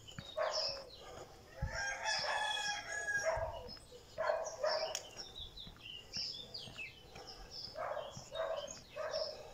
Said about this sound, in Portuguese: Estão ouvindo os galos a cantar.